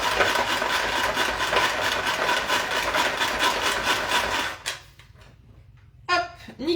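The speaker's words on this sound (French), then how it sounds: "Mon bouillon, mon cube, il est mixé." A kitchen blender whirs loudly and steadily while blitzing a stock cube with broth, then cuts off, leaving faint clinks and handling noises.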